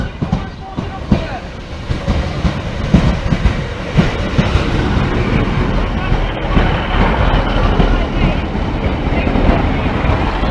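A Class 156 diesel multiple unit rolls past Sleaford East level crossing, a loud continuous rumble of wheels and engine with rhythmic rail clatter heard up close for the whole stretch.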